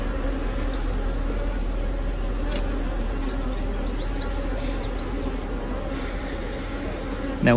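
Honeybees buzzing steadily inside an opened beehive during a hive split, a dense continuous hum close to the microphone with no speech.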